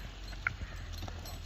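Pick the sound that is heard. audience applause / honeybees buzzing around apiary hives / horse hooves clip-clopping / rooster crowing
horse hooves clip-clopping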